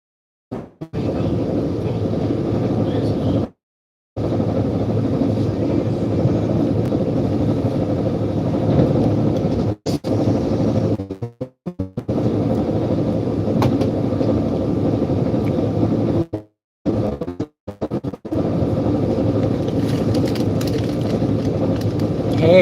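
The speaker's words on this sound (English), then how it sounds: "We're heading north on the train." Amtrak train heading north toward Sacramento, a steady low rumble of the ride heard from inside, interrupted by several brief near-silent gaps.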